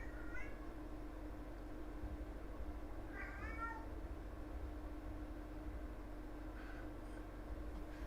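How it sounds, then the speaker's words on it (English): A distressed house cat meows a few times from another room, faint and distant, with long quiet gaps over a steady low background hum. "My cat's having an anxiety attack out in the living room,"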